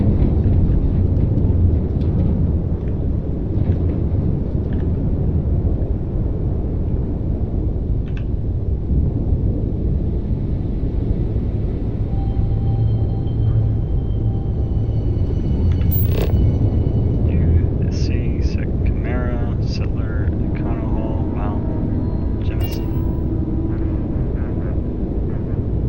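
A spaceship sets down at New Atlantis in the game Starfield, a steady loud engine rumble and roar running throughout, with brief higher whines and beeps joining near the end.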